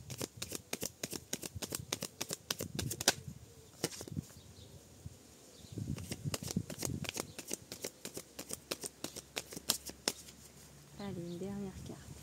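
Playing cards handled and dealt at a table, a run of sharp flicks, slaps and riffles in bursts with pauses, up close, as someone speaks quietly near the end.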